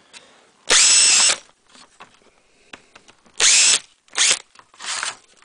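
A power drill enlarges pilot holes to 5.5 mm in plastic for rivet nuts, giving four loud, close, high whining bursts of about half a second each, separated by quiet handling noises.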